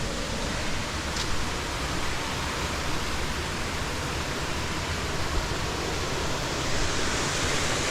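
Steady, full roar of falling water from the seventh and final tier of Chet Sao Noi waterfall, a dense unbroken rush filling the whole stretch without any voices.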